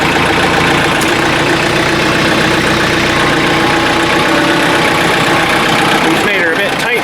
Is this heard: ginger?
no